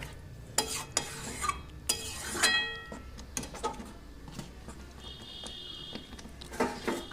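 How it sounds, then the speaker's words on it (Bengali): Paneer stir-fried with spinach masala in a pan over a low flame, soft sizzling under repeated scraping and clinking of a spatula against the pan in irregular strokes. "এবার আমি কিন্তু খুব ভালো করে পালং শাকের সঙ্গে মানে মশলাটার সঙ্গে পনিরটাকে কষিয়ে নিচ্ছি"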